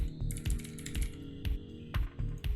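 Rapid typing of code on a computer keyboard, near and fairly loud, with clustered keystrokes and heavier thumps from the space bar or return key across a short burst.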